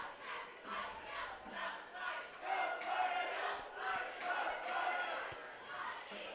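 Cheerleaders at a high school football game keep up rhythmic, pulsing crowd chants from the stands, a sustained wash of many voices swelling and falling in repeated bursts.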